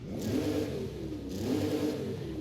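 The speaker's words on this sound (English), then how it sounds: "here is the stock engine noise on this Bronco" Stock V6 EcoBoost engine of a Ford Bronco in Forza Horizon 5, revving twice in a row, a mid-pitched engine note that rises and falls with each blip, loud and close with no talk over it.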